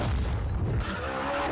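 Deep rumbling explosions in a Need for Speed Payback trailer, a heavy low boom that fades into a sustained roar.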